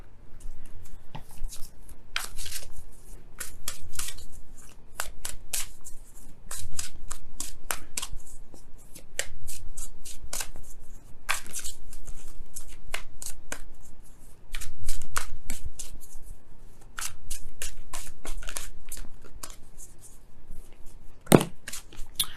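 Oracle cards being shuffled for a tarot reading, a long run of crisp riffling bursts and soft slapping taps in uneven rhythm, close and fairly loud, with no talk.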